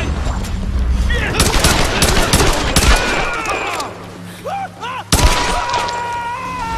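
A Molotov cocktail shatters amid a burst of gunfire in Tomb Raider (2013), with glass breaking, rapid shots and crackling chaos up close, then a quieter stretch of fire before another sharp impact near the end.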